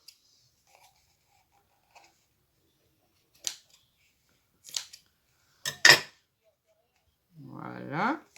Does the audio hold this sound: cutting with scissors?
yes